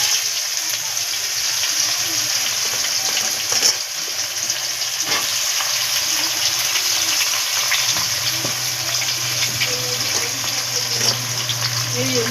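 Onions frying in a pan for a spice paste, with a steady continuous sizzle and crackle throughout, a few faint clinks, no one talking.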